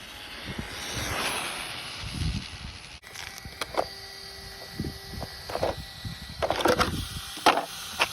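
RC car on a Turnigy 2s shorty LiPo making a speed run, with a rising whine and a close electric motor buzz, then whooshing passes and clatters as it speeds by.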